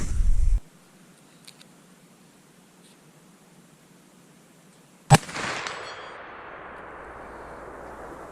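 A single sharp gunshot from reloaded ammunition cracks at an outdoor shooting range during chronograph testing. It comes after a few quiet seconds, loud and close, with a brief trailing ring and hiss.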